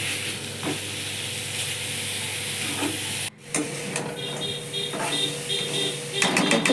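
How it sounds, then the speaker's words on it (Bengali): Tomatoes and chicken soup ingredients fry together in a pan with a steady, close sizzle and hiss, briefly cut off midway, then resuming with some scraping and stirring noises. "তারপর সব ইনগ্রিডিয়েন্টস যেটা চিকেনের ছিল সেটা একসাথে একটু ভেজে নিলাম"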